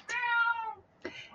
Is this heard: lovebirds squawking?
no